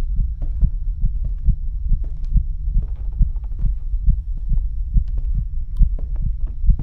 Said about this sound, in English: Your heartbeat.